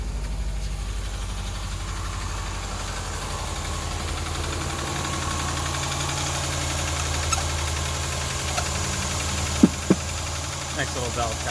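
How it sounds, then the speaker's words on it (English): An idling 2000 Subaru Outback engine runs with a steady low rumble and a faint rapid ticking of valve tap, close by, with a couple of sharper knocks near the end. "Nice little valve tap going on there."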